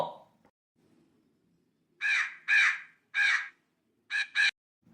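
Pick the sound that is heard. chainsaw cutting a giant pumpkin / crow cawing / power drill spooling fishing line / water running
crow cawing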